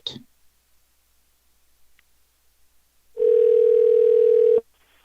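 Telephone ringing tone on an outgoing call: a single loud, steady electronic tone lasting about a second and a half after a quiet pause and a few faint clicks.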